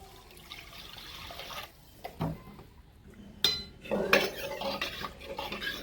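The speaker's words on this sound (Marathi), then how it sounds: "थोडं पाणी टाकून मिक्स करून घ्यायचं" A spoon stirs three spoonfuls of Yesur masala with a little water inside a pressure cooker for a village-style mutton dish, giving scattered metallic clinks and scrapes in short bursts, louder toward the end, with no talking.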